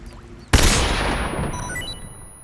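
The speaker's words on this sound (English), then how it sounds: "I believe you chuck a stun grenade in there" A stun grenade goes off inside a bat cave in Metal Gear Solid 3, one sudden loud blast that rings out and decays over a couple of seconds, with a faint high tone left hanging after it.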